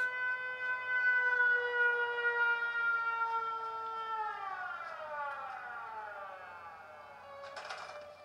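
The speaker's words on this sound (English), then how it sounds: "Yep, siren works." A synthetic video game siren holds a steady rising tone, then winds down in pitch and fades, followed by a brief noisy burst.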